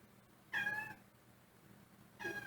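A cat gives two plaintive whining meows, the first longer and the second starting at the end, fairly close against a quiet room hum.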